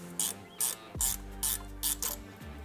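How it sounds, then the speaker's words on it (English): Ratchet spanner on size 12 EGR pipe bolts clicks in five loud, evenly spaced bursts of pawl chatter, each with a short pause between, close and alone. "I prefer to use ratchet spanners"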